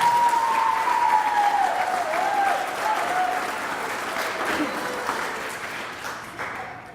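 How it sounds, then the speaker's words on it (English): Audience applause for a D.A.R.E. officer at an elementary school D.A.R.E. graduation ceremony, sustained clapping from a crowd that slowly tapers off, with a voice speaking faintly over the start. "let's give him a round of applause"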